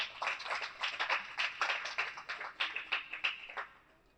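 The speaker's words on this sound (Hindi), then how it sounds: "आपके लिए जोरदार ताली हो जाए।" A church congregation claps together, a quick run of sharp, fairly soft hand claps in a loose, rapid rhythm lasting a few seconds.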